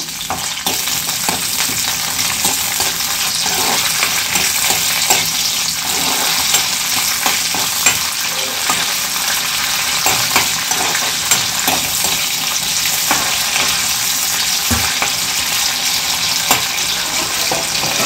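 Chicken curry frying and being stirred in a pan, a steady loud sizzle with scraping stir strokes running throughout, no voices.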